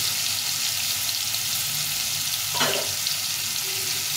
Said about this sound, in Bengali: এখন এইটাকে ভেজে নেব। সবগুলো পটল একটু দিয়ে দিলাম